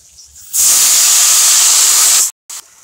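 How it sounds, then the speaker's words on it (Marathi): Fenugreek leaves drop onto chili and garlic frying in hot oil, setting off a sudden loud hiss that holds for about two seconds before cutting off, followed by a brief burst. "चांगलं तळून घेऊ. मिरची लसूण, त्याच्यात आपल्याला मेथीची भाजी टाकायची."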